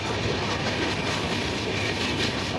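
Train running along the Konkan Railway line near Majorda Junction in Goa, a steady close rumble and roar of wheels on track with faint clickety-clack, continuous and loud with no voices.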